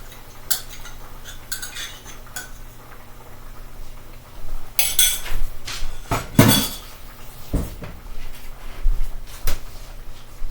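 Mushroom gravy stirred in a pan, with irregular scraping and clinking of a utensil against the pan, quiet at first, then louder bursts of clattering near the middle and toward the end, no voices.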